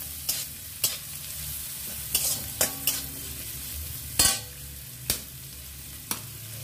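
Onion and chopped spring onion stir-fried in a pan for egg momos, with sharp scraping clatters of a spatula against the pan about once a second over a steady low sizzle.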